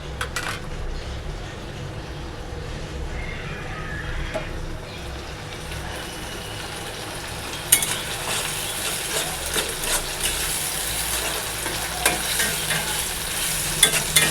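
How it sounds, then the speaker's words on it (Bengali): Onions fry in a pan for a Bengali rohu fish curry, a steady sizzle running throughout with occasional stirring scrapes and utensil clicks, brief sharper knocks near the end. "পেঁয়াজটা লাল লাল করে ভেজে নেব।"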